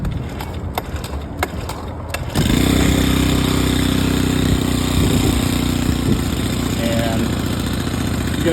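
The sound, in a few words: small gas engine on motorized bicycle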